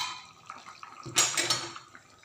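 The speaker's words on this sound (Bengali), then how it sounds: "তো এখন আমি ঢাকনাটাকে তুলে দিলাম" A metal lid comes off a steaming pot of curry with koi fish, bean seeds and potatoes, giving a brief bright clatter and scrape amid soft, quiet kitchen sounds.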